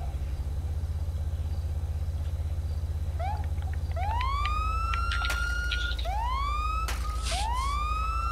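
A police car siren in the video game GTA 5 winds up into repeated rising wails over a steady engine drone. The siren grows louder and more frequent toward the end, with no talking.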